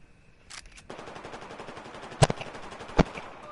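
Rapid automatic PDW-R fire in Battlefield 4, a dense rattling burst of shots followed by two sharper, louder single cracks standing out against continuous background game noise.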